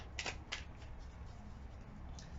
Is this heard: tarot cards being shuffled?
yes